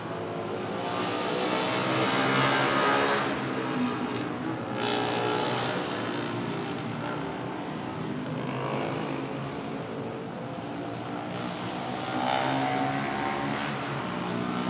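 Mat Rempit street racers at night at 2am: a continuous engine drone, with several louder waves of revving vehicles swelling past over a steady traffic rumble.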